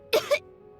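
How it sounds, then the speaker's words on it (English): A game character in Genshin Impact coughs twice in quick succession, close and clear, followed by a brief silence and the start of another sound at the end. "He kept coughing all the time, just like me."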